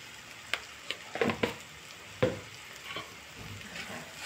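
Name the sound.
vegetables sautéing with chilli powder, spices, turmeric and salt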